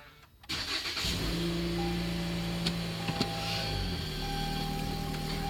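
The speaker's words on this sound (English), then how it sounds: "One thing that you'll notice as we turn this vehicle on" A 2017 Toyota C-HR being switched on inside the cabin, a click followed by a steady low electronic hum and engine idle with faint chimes and tones, no talking.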